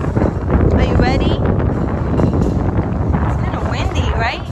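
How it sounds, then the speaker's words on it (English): Strong wind buffeting the microphone with low rumbling gusts, while voices speak over it close by. "It's kind of windy, right?"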